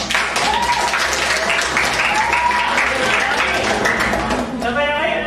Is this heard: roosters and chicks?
no